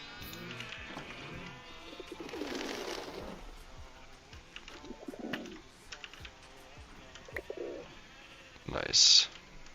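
Pigeons in a modded Minecraft game give scattered low coos and bleat-like calls amid game ambience, with a sharp louder burst near the end.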